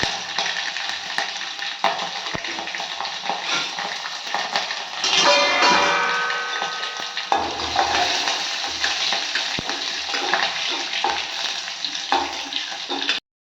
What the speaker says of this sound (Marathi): इथं मोहरी घालते बघा मी आता. कढीपत्ता, लसूण